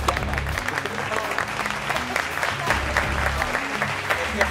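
An audience on a talk show claps warmly to welcome an influencer guest, a steady dense wash of applause running the whole time over rhythmic background music.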